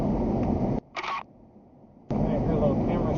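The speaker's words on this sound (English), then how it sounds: "I hear a little camera shutter sound." A single quick electronic shutter click from a ddpai Mini2 dashcam, sounding in a short quiet gap between louder stretches of steady background noise.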